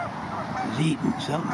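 Geese on a park pond give a few short nasal honks close by, while someone talks quietly over them.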